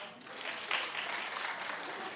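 A studio audience claps on a talk show, a short dense burst of applause at moderate distance lasting about two seconds.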